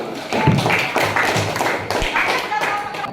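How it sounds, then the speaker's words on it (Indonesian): An audience applauds after a group presentation at a school supervision session, a lively burst of clapping mixed with overlapping voices throughout. "Kita beri aplaus dulu."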